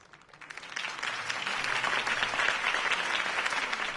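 Applause from a crowd after a campaign speech for Harvey Dent builds from a quiet start into sustained, dense clapping at close range, with no voices over it.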